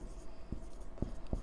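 Chalk tapping and scraping on a board while a maths question is written out in a classroom lesson, three short distinct strokes over a low steady room hum.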